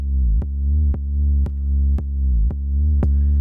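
A soloed house-music synthesizer part built in Serum plays a low, buzzy sustained tone that swoops in pitch, punctuated by sharp clicks roughly every half second in a steady pumping pulse, with no talk.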